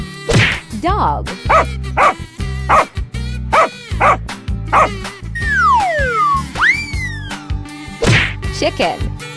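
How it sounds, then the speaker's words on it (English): A cartoon dog barks in short bursts over bouncy, steady children's cartoon music with whooshing slide effects in a playful animal game. "Dog."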